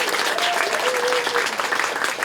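A church congregation at a memorial hall opening service claps steadily, a dense, even wash of applause that holds the whole time.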